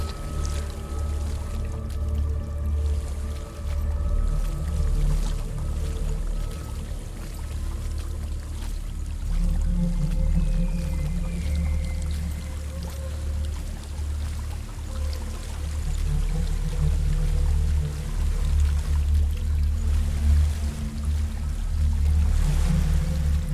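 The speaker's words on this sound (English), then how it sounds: "There's a waterfall." A waterfall in the video game Hellblade: Senua's Sacrifice pours as a steady, broad rushing wash of water that holds evenly throughout at moderate loudness.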